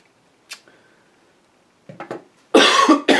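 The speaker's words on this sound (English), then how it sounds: "The merest whiff of dust and I'm already coughing like a good one." A person coughs repeatedly from dust while cleaning out a PC during an upgrade: a couple of short coughs, then a loud, harsh burst of hacking coughs close to the mic after a quiet pause.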